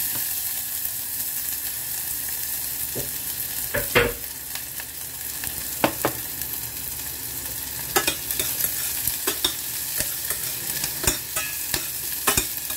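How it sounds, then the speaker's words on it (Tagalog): Onion and garlic sautéing in a pan, a continuous bright sizzle punctuated by repeated sharp scrapes and taps of a spatula stirring, close and loud with no voices. "Gisa natin yung ating ricado guys"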